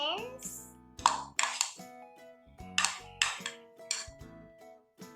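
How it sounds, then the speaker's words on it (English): Vegetables such as carrots, onions, tomatoes, lemons and potatoes clatter into a bowl, giving a series of sharp ringing clinks and knocks spaced a second or so apart, close and fairly loud, with a voice speaking now and then. "We put all vegetables in the bowl."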